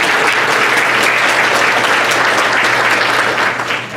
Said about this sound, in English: A round of applause for all three of them.